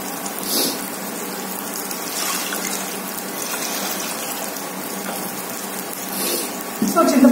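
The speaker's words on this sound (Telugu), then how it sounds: "సో చింతపండు సరిపడా వాటర్ యాడ్ చేసుకోవాలి." Water splashes into a bowl of tamarind for extracting pulp in a kitchen, a soft steady pouring sound close by, ending with a slightly louder splash.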